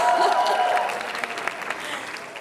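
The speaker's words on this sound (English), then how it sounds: "can we just take a moment and give a round of applause to this beautiful" Wedding sangeet audience applauding the couple, a steady wash of clapping that starts strong and slowly tapers off, with a murmur of voices mixed in.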